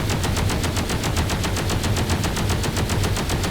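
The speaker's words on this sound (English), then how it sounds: "why are we firing at the vehicle?" Sustained automatic gunfire from a weapon in Space Engineers, a steady rapid stream of evenly spaced shots lasting the whole stretch, loud and close with no talking.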